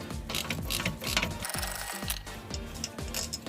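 Ratchet socket wrench working a 13 mm brake bolt on a 2015 Nissan Qashqai J11 during a brake pad replacement, giving a steady run of close, rapid metallic clicks and clacks that continue through the whole stretch.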